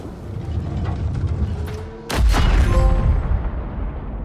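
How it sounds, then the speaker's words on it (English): A cannon fires at a creature in a video game: one heavy boom midway through cuts across a rumbling ambient bed, followed by a low, lingering roar, and no one speaks. "Fire at the secondary target with the cannon."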